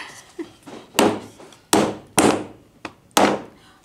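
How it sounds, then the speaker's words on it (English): A hammer strikes wooden canvas stretcher bars to fit them together, giving about eight sharp, loud, close knocks at an irregular, unhurried pace with brief pauses between blows. "I'm not hammering one side all the way. I'm going back and forth so that it goes in evenly."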